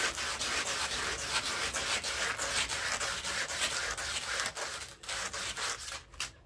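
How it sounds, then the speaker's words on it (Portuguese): New sandpaper rubbing steadily on the mechanism shaft of a Consul washing machine, a continuous close, loud rasping with quick back-and-forth strokes that slows near the end, no talking. "Ó, uma lixa novinha,"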